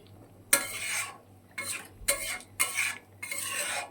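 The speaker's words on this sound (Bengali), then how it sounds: "এবার 2 থেকে 3 মিনিট মাছের ঝোলটা ফুটাবো" Fish curry in a pot being stirred, a utensil scraping and clinking against the metal in five distinct bursts separated by short pauses, close and fairly loud with a faint low hum beneath.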